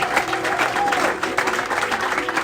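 Church congregation applauding and cheering together in a steady, dense wash of clapping that fills the short moment, with a few voices rising over it.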